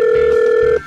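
A telephone line gives a single steady electronic tone during a call, loud and close, lasting under a second before cutting off abruptly.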